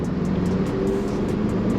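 A diesel Volkswagen Golf with 201,000 miles pulls hard under acceleration, giving a loud, continuous engine drone with a low rumble that stays steady throughout, heard from inside or close to the car.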